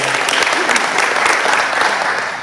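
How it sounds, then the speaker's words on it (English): A club meeting audience applauds in steady, dense clapping throughout, close and fairly loud with no pauses. "Big round of applause."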